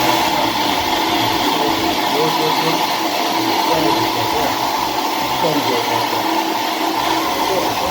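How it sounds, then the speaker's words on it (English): A cocoa grinding machine with a spinning blade runs steadily, giving a constant loud whirring drone for the whole stretch, with faint voices underneath. "There's a blade in here that grinds up everything."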